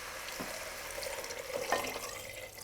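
Chicken stock poured into a soup pot of sausage and pumpkin soup, a soft, steady liquid pouring and splashing with a brief gurgle near the end, faint and close.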